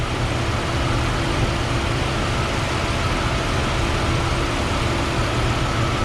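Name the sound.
Jeep engine idling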